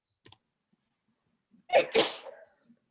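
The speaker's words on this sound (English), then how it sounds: "sneezing." One sharp sneeze bursts out close by in an otherwise quiet finance committee meeting room, preceded by a faint click.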